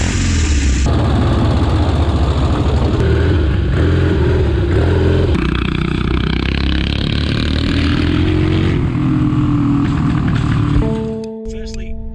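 A pre-war hand-shift vintage motorcycle engine runs loudly and close by, its steady throb shifting in pitch as it is ridden, then cuts off near the end, leaving a tonal hum.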